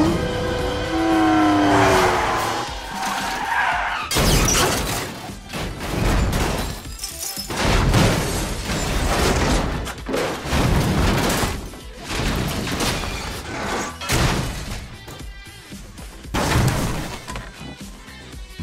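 Aston Martin DBS crash stunt in Casino Royale, a dense sequence of heavy impacts, crunching and rolling bangs with engine noise and film score, loud and close with repeated hits throughout.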